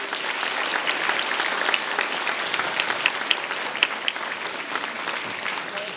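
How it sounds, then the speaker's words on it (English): An audience at a charity evening of song applauds a pianist, with sustained, even clapping from a sizable crowd, moderately loud and continuous with no voices over it. "Give him a big round of applause."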